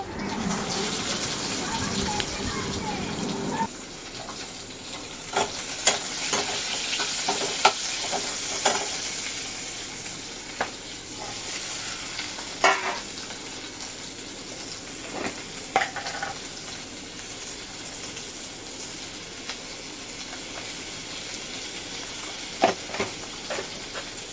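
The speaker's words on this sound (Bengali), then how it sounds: "এবার দিয়ে দিচ্ছি আমি রসুন। রসুনটা একটু ভাজা ভাজা হলে পেঁয়াজ লঙ্কা টমেটো দিয়ে দেবো।" Steady sizzling of garlic frying in a hot pan, with intermittent scraping and stirring clicks throughout, close and moderately loud.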